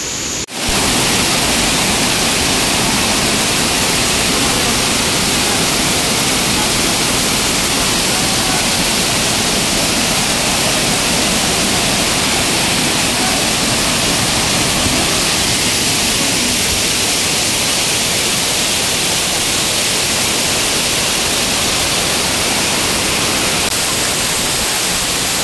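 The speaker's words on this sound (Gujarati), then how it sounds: "ત્યાં તો જો કેટલું પાણી છે." Floodwater pours loudly over the Jata Shankar waterfall in a steady, roaring broadband rush that holds unbroken for the whole stretch, close and dense with no voices.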